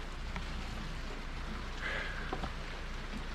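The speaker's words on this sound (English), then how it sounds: "it's been raining all day." Steady soft rain hisses evenly throughout, faint and distant, with a few scattered drips.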